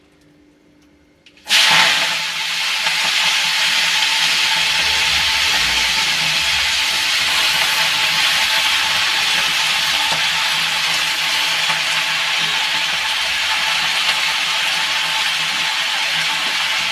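Malabar spinach (pui shak) hits a hot pan with cut green chilies, bursting into a loud, steady sizzle right after a quiet start and frying continuously and close up without pause.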